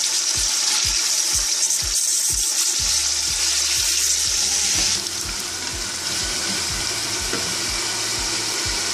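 Beef pieces frying in a pot for qorma, a loud steady sizzle with repeated stirring knocks and scrapes, close and continuous with no talking.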